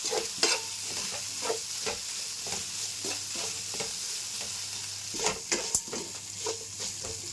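Ginger-garlic paste frying in a pan for a coconut-milk pulao, a close, steady sizzle under regular scraping strokes of a spoon stirring the paste.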